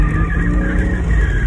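Porsche Boxster drifting at a performance driving school, its engine roaring steadily at high revs with a sustained tyre skid and squeal layered over the loud, continuous drone.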